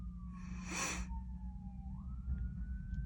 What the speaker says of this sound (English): And I'm hearing the ambulance is going off.